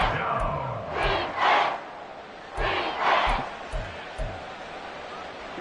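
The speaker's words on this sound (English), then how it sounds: "The Arrowhead crowd in full roar" At Arrowhead Stadium in the Madden 24 football game, the crowd roars in several swelling bursts that rise and fall, with short rhythmic thumps in between.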